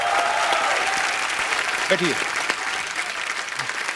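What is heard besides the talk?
studio audience applause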